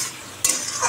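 A pan of fish curry with onion and potato bubbles and sizzles on the stove, a steady hiss with a brief clatter partway through, close and without talk.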